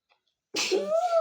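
A single sharp, close sneeze bursts out after a short silence, ending in a rising voiced trail.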